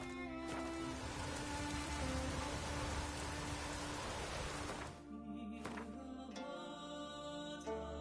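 Rain falls in The Witcher 3 video game as steady broadband hiss, thick and even for about five seconds, then thinning into softer patter under quiet tonal game ambience.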